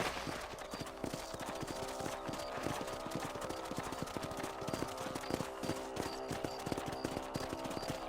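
A horse's hooves clip-clop at a steady, even pace in the video game Red Dead Redemption, with the rhythmic hoofbeats running throughout over quiet background game ambience.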